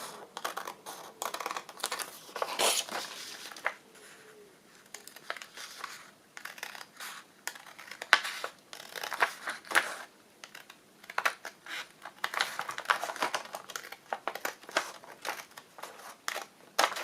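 Scissors snip through paper while cutting out handmade journal cards with hidden ephemera pockets, a quiet, irregular run of crisp cuts and soft paper crinkles with no talking.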